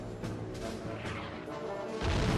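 Explosions in the Army Men of War game during a WW1 trench assault, a dense run of crashing, booming blasts at close range that swell louder near the end.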